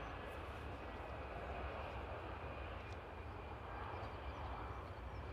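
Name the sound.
Air France airliner arriving at Paris Charles de Gaulle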